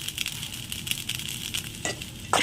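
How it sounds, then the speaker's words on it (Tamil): Garlic pepper rice sprinkled with coriander leaves being mixed in a pan, brief close scraping and stirring over a low sizzle, with a couple of sharper utensil scrapes near the end. "மல்லி இலை தூவிட்டு நல்லா மிக்ஸ் பண்ணி விட்டுடலாம்"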